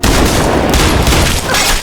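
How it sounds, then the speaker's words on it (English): Loud, dense burst of chaotic gunfire, a rapid overlapping fusillade of shots with booming reports, sustained without pause for under two seconds. "After the chaotic gunfire"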